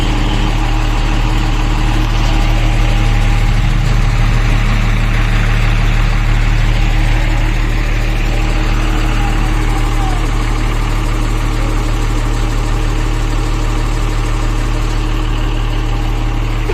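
A concrete vibrator motor runs continuously close by, giving off a loud, steady mechanical hum and buzz with a strong low drone that barely changes over the whole stretch.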